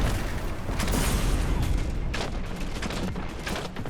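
Gunfire while shooting enemies in Destiny 2, a dense run of rapid shots and bursts over constant game rumble, with a voice talking over it.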